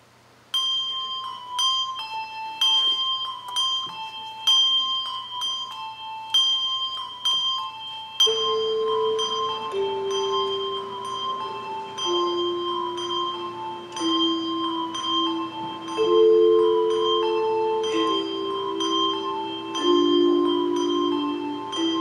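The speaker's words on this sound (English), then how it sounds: "our Wesley Bell Ringers were joined by the children in a wonderful arrangement of Carol the Bells" A handbell choir joined by children plays Carol of the Bells, bright ringing chimes repeating the quick four-note pattern before lower bells enter beneath, clear and steady throughout with no talk.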